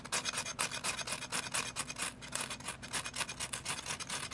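A firesteel rod, its tip pressed into the ground, is ground back and forth in a steady run of harsh, close rasping scrapes that continue without pause.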